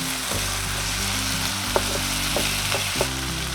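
Two garlic cloves and chicken frying together in a pan give a steady, close sizzle, with a few soft clicks and taps from stirring and no voices.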